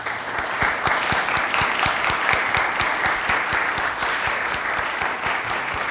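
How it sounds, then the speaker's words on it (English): A room of city council meeting attendees applauds the delegates, steady dense clapping from many hands that holds at an even level throughout, with a few sharper individual claps standing out near the front. "everybody give a round of applause to our delegates"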